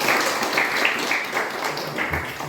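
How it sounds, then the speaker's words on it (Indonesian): A school class in Indonesia claps together, a fairly close, moderately loud patter of many small hands with a few sharper taps standing out, brief and uneven. "Oke, tepuk tangan untuk kita semua."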